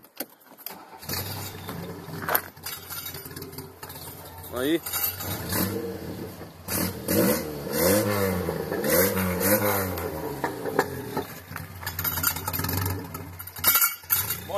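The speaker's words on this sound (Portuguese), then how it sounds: "Agora aqui o Voyage sem escapamento." A 1982 Volkswagen Voyage LS running without an exhaust starts and idles roughly, then revs in several rising and falling surges, loud and close, with metallic clinks and a person talking over it.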